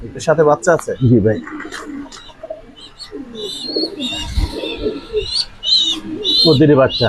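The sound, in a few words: Nuremberg lark pigeons cooing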